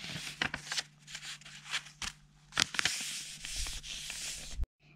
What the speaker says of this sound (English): First, fold the paper like this.